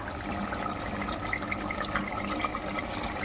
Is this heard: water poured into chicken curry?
yes